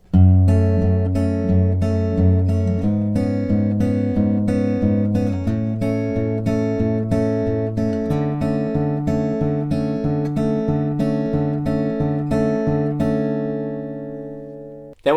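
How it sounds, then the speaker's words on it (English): Fingerpicked acoustic guitar plays the bridge of a song, a steady, close and clear stream of evenly plucked notes over ringing low bass tones, continuing alone without any voice for the whole stretch. "So in total, the bridge will sound like this."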